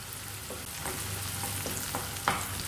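Onions sizzle and fry in a pan with lightly browned garlic for a lasagna Bolognese sauce, a steady soft crackle with occasional clinks of stirring.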